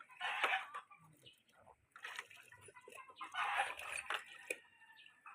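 Chickens cluck and squawk in bursts at a farm, just before being given a bath in hot weather, with people talking quietly around them.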